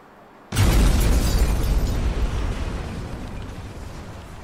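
A bomb blows up in an Italian rap music video: a sudden loud, deep blast lands half a second in after near silence, then a long rumbling roar that slowly fades over the following seconds.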